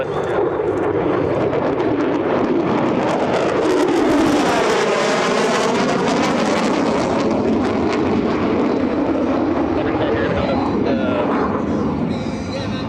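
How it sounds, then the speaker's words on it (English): An F-35A Lightning II jet flying a demonstration at an airshow roars loudly and continuously overhead, its pitch shifting as it passes, with a voice talking underneath. "Now, over your right shoulder, the F-35 demonstration team."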